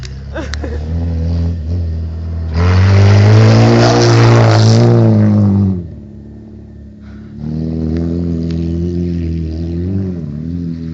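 A Ford Sierra's engine revs hard in two loud, close bursts, the first rising and holding for about three seconds, then dropping to a brief idle before climbing again.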